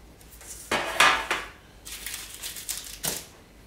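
A knife cuts through a vanilla square with crushed almonds laid out on a tray: a handful of sharp, close clacks and scrapes as the blade hits the tray, with short pauses between strokes and no voices.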